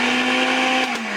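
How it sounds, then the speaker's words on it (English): A blender grinds ice for a homemade slushie, a loud, steady motor whine with a strong hum and rattling churn, briefly dipping near the end as the load shifts. "It's taking me so long to get this damn thing to blend."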